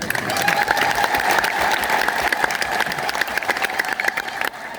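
Sustained applause from a big crowd at a church gathering, dense rapid clapping held at an even level before it briefly drops off at the end.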